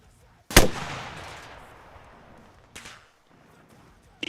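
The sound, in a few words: rocket launcher fired in video game Arma Reforger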